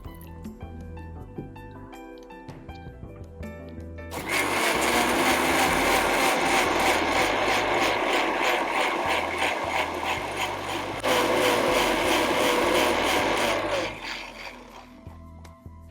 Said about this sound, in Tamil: தண்ணி ஊற்றி இதை வந்து நல்லா அரைச்சிக்கலாம்.